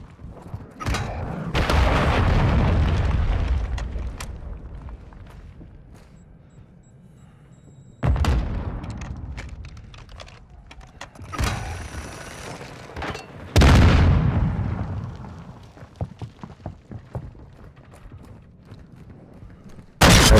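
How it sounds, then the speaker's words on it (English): Cruise missile strikes in Modern Warfare II, several heavy booming explosions with long rumbling tails, spaced a few seconds apart, loud and close, with scattered smaller bangs and crackling debris between them. "Hostile cruise missile incoming."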